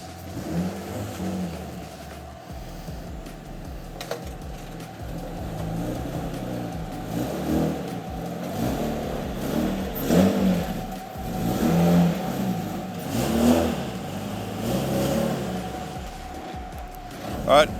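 A car drives up the ramps onto a car trailer, its engine idling and rising in gentle revs as it creeps forward, close by and moderately loud, steady throughout.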